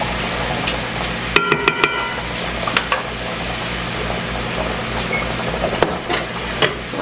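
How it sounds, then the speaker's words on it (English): Potatoes browning in bacon grease in a skillet give a steady, close sizzle and frying crackle, with a few sharp clinks of utensils against the pan near the start. "brown my potatoes in a skillet with some bacon grease"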